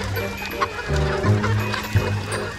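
Gamefowl chickens at a game farm cluck and murmur steadily at close range, with several birds calling over one another and no talk.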